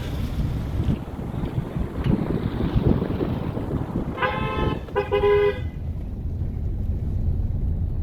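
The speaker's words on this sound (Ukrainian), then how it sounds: "Бачите, всі сигналять." Two short car horn honks sound in quick succession over steady wind and passing traffic noise, fairly near and loud.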